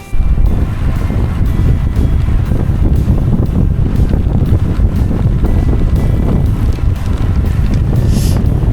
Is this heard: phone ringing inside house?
no